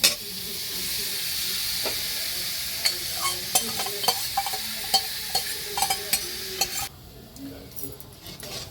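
Steady oily sizzle of cauliflower frying in spiced oil, with a spoon scraping and tapping the pan in a loose rhythm, then the sizzle drops away near the end.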